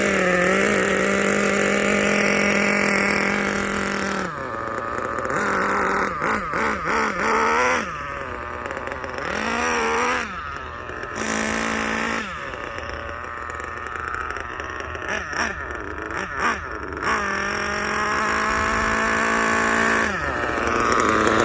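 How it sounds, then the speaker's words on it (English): The small nitro engine of a Kyosho USA-1 RC truck, still being broken in, buzzes at idle and then whines up in a series of short, sharp quarter-throttle pulls, each followed by a drop back to idle. "let her warm up a little bit, and then we're gonna do some quarter throttle pulls."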